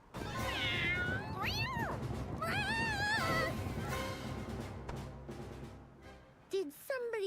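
A cartoonish cat in the video game Visions of Mana meows repeatedly in stretched, wavering cries over game music, with a short sharp mew and a final rising meow near the end.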